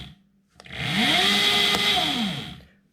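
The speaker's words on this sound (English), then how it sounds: "And this is going to be full throttle." A 2021 Torrot MX2 electric motorcycle spins up at full throttle, a rising electric whine that holds at a high steady pitch for over a second and then winds back down, close and clear with no talk.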